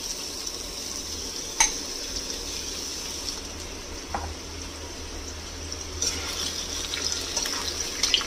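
Potatoes sizzling in a generous amount of hot oil for an okra curry, a steady close hiss with a sharp clatter near the start and another soft knock midway.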